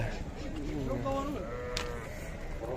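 Goats bleating in a busy livestock market in Sokuluk, several wavering calls overlapping amid a constant crowd murmur and voices.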